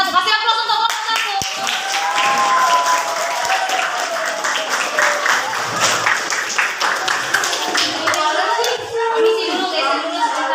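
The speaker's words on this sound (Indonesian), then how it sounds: "Kasih aplaus untuk kelompok 1" A classroom claps for group 1, a sustained burst of many hands lasting about ten seconds, with scattered voices and cheers mixed in and the clapping thinning toward the end.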